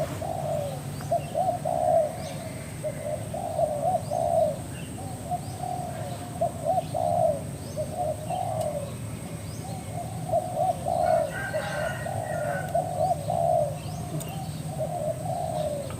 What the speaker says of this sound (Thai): คูกันข้างล่างอยู่ตรงไอ้ต้นมะม่วงครับ